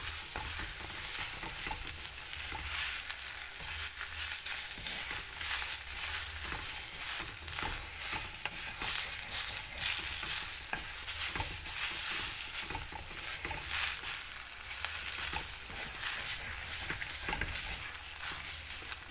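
Raw figs being stirred in a frying pan, a steady close scraping and stirring rhythm over a constant background sizzle that runs throughout with no talking.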